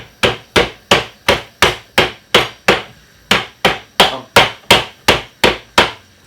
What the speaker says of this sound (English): I'm just beating up my spring onion